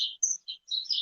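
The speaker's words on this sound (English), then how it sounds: "There's some birds, like about 10 of them that just went shh and flew right in front of me" A flock of about ten small birds gives quick, high chirps close by, several bright bursts in an uneven cluster with brief gaps between.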